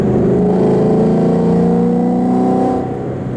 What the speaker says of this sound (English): let's see how a fourth gear pull is from 60, well, about 55